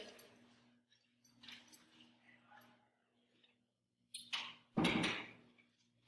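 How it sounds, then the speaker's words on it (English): A room door is shut with a firm thump near the end, preceded by a few lighter clicks and rustles of handling against a quiet indoor background with a low hum. "sorry, I had to shut my door"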